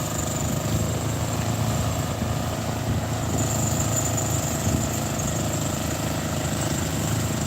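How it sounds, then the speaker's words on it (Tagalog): Construction machinery running near the National Museum on Finance Road, a steady continuous engine drone with a faint high whine, moderately loud and unbroken throughout. "medyo maingay gawa ng may nagko-construction dito"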